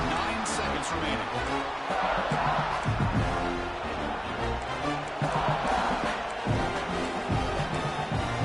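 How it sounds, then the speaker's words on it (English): A big football stadium crowd roars continuously as the home defense holds near the goal line, a loud sustained wall of cheering and shouting with a commentator talking over it. "this big crowd doing everything possible to inspire this defense down here near the goal line"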